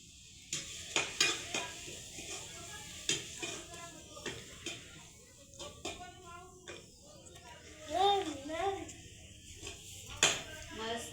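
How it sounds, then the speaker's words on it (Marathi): Gram flour stirred and roasted in a pan for paneer curry on a wood-fired stove: repeated clinks and scrapes of a spoon against the pan over a soft sizzle, with a voice talking throughout. "याला तेल सुटेपर्यंत हे पण भाजून घेऊ"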